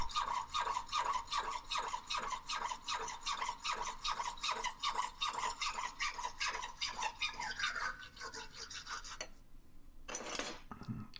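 A brass bullet casing is sawn or filed through in a steady run of about twenty close, rasping back-and-forth strokes, each with a gritty metallic scrape. The strokes stop near the end, followed by a single brief clatter.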